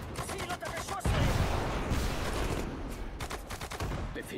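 Rattling small-arms and machine-gun fire in a Sudden Strike 4 battle, a dense, loud fusillade of overlapping shots that swells after the first second and continues in bursts throughout.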